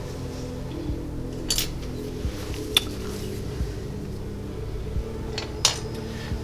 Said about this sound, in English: Clean my fancy stir stick off here.